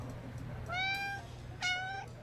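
Two clear cat meows in the Love and Deepspace video game, each a drawn-out rising cry, the second following shortly after the first over a faint low hum.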